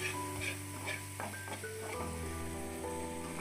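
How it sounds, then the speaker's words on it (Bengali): Spices for khichuri being stir-fried in a pan, a soft steady sizzle with a few scraping stirs and light clinks of a utensil, heard quietly over a faint background hum. "এই মশলাগুলো ভালো করে কষিয়ে কষিয়ে নিয়ে রেখে দেবো মশলাটা"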